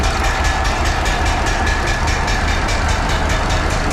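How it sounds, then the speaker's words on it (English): Ruston Bucyrus 10RB excavator engine running just after start-up, a loud, steady, rhythmic chugging throb close by, with no voices. "fire it up and get it going."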